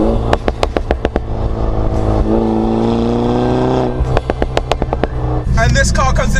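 A Mini Cooper S Convertible with a Remus catback exhaust revs and accelerates, with a sharp series of crackling exhaust pops in quick bursts, loud and close, and a steady engine drone between them.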